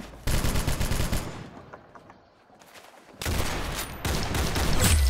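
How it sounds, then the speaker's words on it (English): Rapid gunfire from the Roblox shooter Arsenal, loud dense bursts at the start, a brief quieter lull in the middle, then sustained heavy shooting resuming through the end. "Very good shooting."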